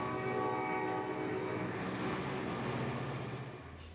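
A commuter train passes close by with a steady, loud rumble and a sustained horn tone, and the sound eases off toward the end.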